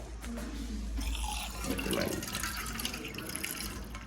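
Water runs and splashes into a bowl nearby, a steady trickling pour with faint background noise.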